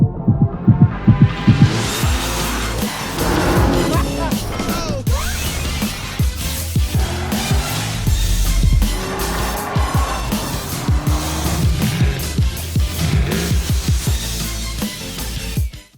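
A 2020 Porsche Macan Turbo facelift revs loudly and close, its engine roaring and throbbing with bursts of tire squeal, steady and dense for the whole stretch with no talk.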